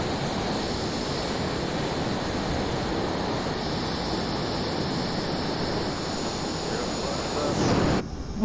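In a Microsoft Flight Simulator session, a jet aircraft rushes past with a steady broadband roar that swells briefly near the end, as people talk over it.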